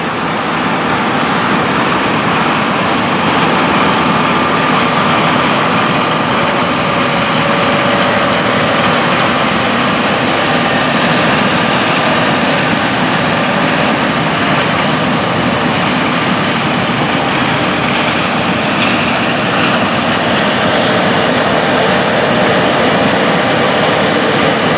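A loud, steady engine drone runs unbroken throughout, heavy and rumbling like a big tractor working nearby: a new John Deere 8RX 370 tractor working in a field during corn harvest.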